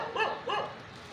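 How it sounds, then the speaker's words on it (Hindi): Dogs outdoors giving two quick close barks, a short yelping pair with a pause between, fairly loud over faint background. "ये देखो, ये बाहर डॉग भी हैं, तो मार डालेंगे इनको।"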